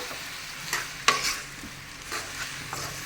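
Curry leaves are stirred into spinach cooking in a pan, with soft sizzling and a few scraping strokes of a spoon, one sharper clink near the start, quiet and close.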